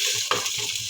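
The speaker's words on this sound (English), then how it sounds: "Saute the garlic and onion." Garlic and onion sautéing over low heat in a thin casserole pan, a steady soft sizzle with a few stirring scrapes and light clinks, close and alone.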